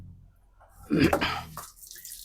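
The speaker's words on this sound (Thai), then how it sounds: "พอเสร็จแล้วปุ๊บเราก็ล้างออก" Plain water splashes and trickles as a khanom krok pan is rinsed, a short close splash burst in the middle of quiet background, then a faint drip and trickle.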